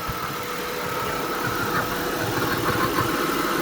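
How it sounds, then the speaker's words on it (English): A 2002 Jaguar X-Type with no power idles steadily up close, its low engine rumble carrying a faint airy, sucking hiss throughout. "it's got this really weird, like it's sucking air or something"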